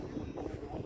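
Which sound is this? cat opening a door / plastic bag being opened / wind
wind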